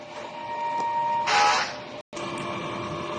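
A DTF printer runs a printhead clean cycle: a steady mechanical whir with a thin tone, a louder rushing burst midway, then a momentary cut to silence before the hum resumes, close and alone.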